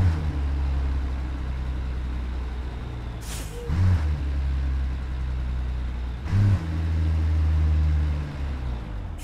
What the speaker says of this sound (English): got those touchy brakes going on again